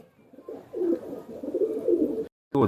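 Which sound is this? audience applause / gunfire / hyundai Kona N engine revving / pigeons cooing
pigeons cooing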